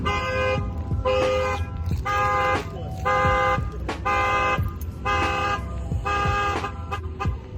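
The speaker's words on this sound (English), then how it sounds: "At least I know my alarm works." A car alarm honks in a steady rhythm, about a dozen loud, near toots in regular bursts with brief gaps, over low background rumble.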